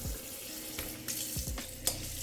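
Water from a kitchen faucet runs into a deep sink in a luxury home, a steady close splashing hiss with a few brief knocks over the top.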